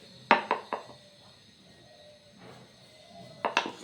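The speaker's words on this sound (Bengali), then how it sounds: "এবারে আমি সামনের আগার দিকটা আর গোড়ার দিকটা কেটে নেব।" A kitchen knife chops off the ends of a bottle gourd on a cutting board, giving a few sharp knocks in a quick group, a single softer tap, and then another short cluster of close chops.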